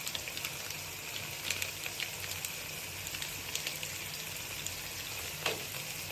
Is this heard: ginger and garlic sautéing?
yes